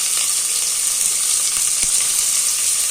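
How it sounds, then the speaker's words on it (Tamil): Onions sizzling in hot oil in a pan for peas pulao, a steady close hiss of frying with faint stirring ticks. "இதில் வெங்காயம் போட்டுக்கலாம்"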